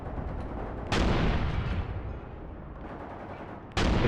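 Artillery and mortar shells bursting in a World War II tactics game, with a sudden loud blast, a long decaying rumble and a second sharp burst near the end, no talking.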